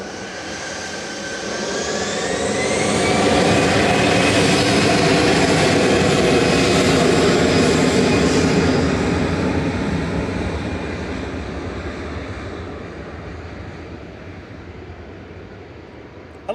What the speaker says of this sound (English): Lufthansa touching down